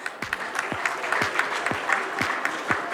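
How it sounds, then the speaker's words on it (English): Crowd applause at a 75th foundation day event as a new team member is called on stage, broad continuous clapping with a few sharper, louder claps standing out near the microphone at regular intervals. "Keep the applause going."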